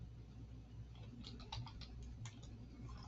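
Quick bursts of keystrokes on a computer keyboard clatter irregularly at a soft level over a steady low hum, with short pauses between runs of clicks.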